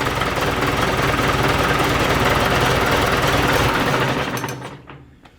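A Ford 172 diesel engine idles steadily with a dense, rough mechanical drone, loud and close, then cuts off near the end and fades into quiet.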